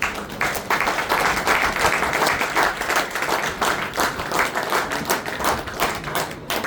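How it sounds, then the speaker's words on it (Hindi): A school audience claps loudly and steadily for a guest speaker in dense, continuous applause lasting several seconds, with no pause. "जोरदार ताली बजाओ सर के लिए।"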